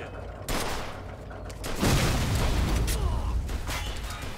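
Tank blowing up in Mafia 2, with a sharp gunfire burst followed by a loud, sustained rumbling explosion and scattered crackling pops, under intermittent game chatter.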